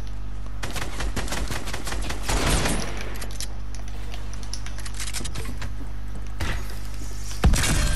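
Rapid gunfire in a video game rattles in dense bursts, close and loud, with brief pauses between volleys and a final sharp shot near the end.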